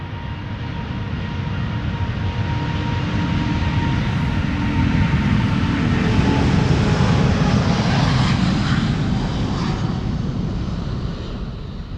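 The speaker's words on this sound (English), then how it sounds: "Up and away it is. Delta Airlines flight 133." A Delta Airlines jet, flight 133, about seven years old, takes off at Amsterdam Schiphol Airport, its engine roar swelling into a loud sustained rumble, then easing slightly as it climbs away.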